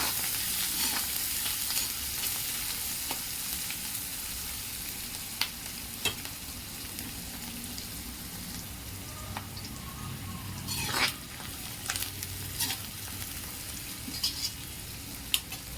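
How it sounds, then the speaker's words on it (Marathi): Sliced onions and two or three slit green chilies sauté in a pan for a Maharashtrian drumstick amti, giving a steady, close sizzle and hiss, with a few light clinks of a utensil on the pan. "उभ्या 2-3 मिरच्या कट केलेल्या आहेत त्या, कांदा लालसर होईपर्यंत परतून घेऊ"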